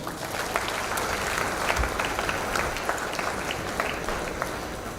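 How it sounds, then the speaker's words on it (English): Broad, dense audience applause at a college induction ceremony for the engineering batch, an even roar of many hands clapping throughout, moderately distant and without speech. "So we can give a very big applause for him also"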